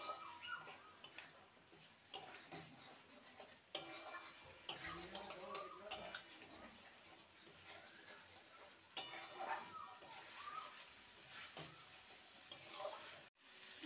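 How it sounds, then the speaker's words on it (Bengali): Fried bitter gourd pieces being stirred into spice masala in a pan, with scraping and clinking of a spatula against metal coming in irregular bursts over a faint background hum, fairly quiet and close. "এবার ভেজে রাখা উচ্ছেগুলো দিয়ে দেবো। ভালো করে মশলার সাথে নেড়ে নেব।"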